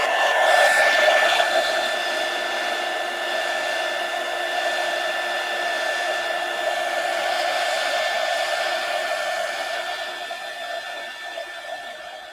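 A hair dryer blows steadily on a resin craft piece for the whole stretch, a loud continuous whooshing whine with no talking, tapering only slightly near the end.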